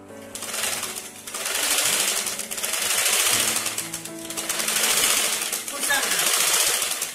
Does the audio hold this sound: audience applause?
no